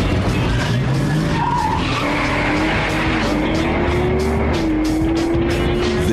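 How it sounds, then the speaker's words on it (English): Highly modified street cars drag racing over a quarter mile at California Speedway: loud, roaring engines with tire squeal and skidding, rising engine pitch as cars launch and pass, continuous and close. "owners come to push their highly modified street cars to the limit over a quarter mile."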